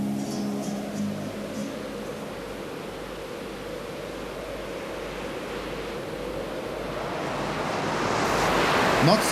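Atlantic surf surges and seethes against the rocky Lanzarote coast near El Golfo, a continuous broad roar of breaking water with wind, swelling louder toward the end.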